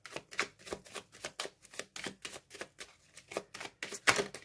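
A deck of tarot cards is shuffled by hand in a quick, even run of about a dozen crisp riffling flicks, close and clear, with no talking.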